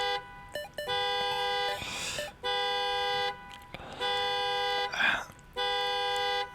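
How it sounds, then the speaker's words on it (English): Repeated car horns honking in Freddy Fazbear's Pizzeria Simulator: loud sustained blasts in several bursts with short gaps, broken up by brief noisy crashes between them. "the timer turned into car horns"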